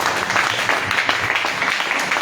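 A church congregation claps steadily in a continuous wash of applause, loud and close, with a voice faintly mixed in.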